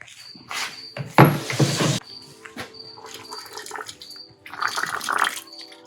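Water runs into the tank of a Karcher BD 50/50 floor scrubber, a rushing pour that comes in bursts with pauses between, loud and close with no talking.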